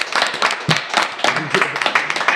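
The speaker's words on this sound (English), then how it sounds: "clap it up for yourselves, though, for real." A small group on a casual talk show clapping for themselves, with brisk, close, uneven claps in quick bursts and voices mixed in.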